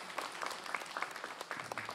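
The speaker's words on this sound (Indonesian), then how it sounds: "Tepuk tangan dulu yuk." Audience applause at an Islamic talk show: dense, steady clapping from a crowd at moderate distance, filling the whole short stretch.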